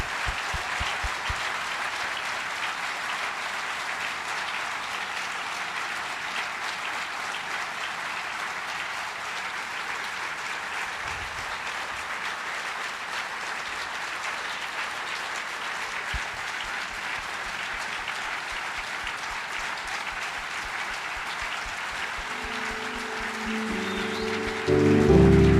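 Long, continuous applause from a large audience honoring Herbert Wigwe, a steady rain-like wash of clapping that holds for over twenty seconds before swelling slightly louder at the end.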